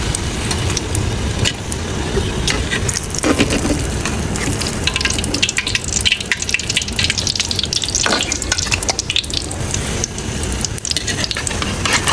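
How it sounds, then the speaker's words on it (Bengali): Parathas frying one at a time in a pot of hot oil, a loud, dense, continuous sizzle and crackle that fills the whole stretch with no talk over it. "আম্মু পরোটা একটা একটা দিয়ে ভেজে নিচ্ছে।"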